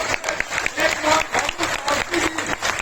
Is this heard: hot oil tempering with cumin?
no